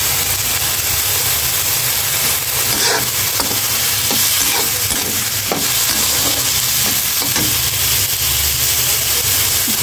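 Malabar spinach flowers cook with turmeric in a pan: a continuous close sizzle runs throughout, broken by repeated scraping stirs of a utensil against the pan.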